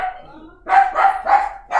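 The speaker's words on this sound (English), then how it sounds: "My dog." A dog barks four times in quick succession, loud and close indoors, each bark full and harsh, with a softer vocal sound just before them.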